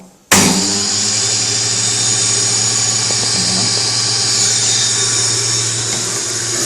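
A Braun J500 juicer switches on and runs at low speed, a loud, steady motor whine with a constant hum that holds without change to the end.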